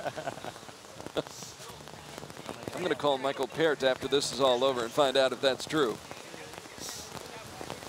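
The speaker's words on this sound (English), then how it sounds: "the rain picking up once again" Steady rain falling during an outdoor compound archery team gold-medal match, a soft continuous patter underneath a commentator talking over it.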